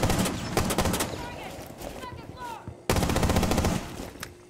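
Gunfire in the tactical shooter Rainbow Six Siege, with bursts of rapid automatic shots, a short lull and then another heavy volley, while people talk over the game sound.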